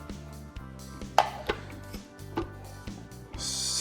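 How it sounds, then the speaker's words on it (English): Whole cucumber fed through a kitchen slicing machine, giving a quick run of crisp chopping clicks and thumps in an uneven rhythm, close and fairly quiet, with no talking. "And then put it in the machine. Slice, slice, slice."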